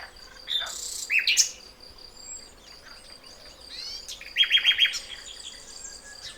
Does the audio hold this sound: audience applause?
no